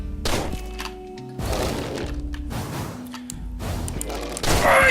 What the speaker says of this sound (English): I shot you in the face!